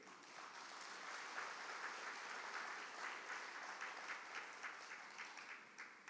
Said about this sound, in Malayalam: ഒന്ന് കൈവർത്തി കൈയടിക്കുക